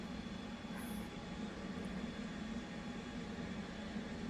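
An F/A-18 jet engine spools up in the DCS flight simulator game as a steady, continuous hum and whine that holds at an even level throughout, with no talk over it.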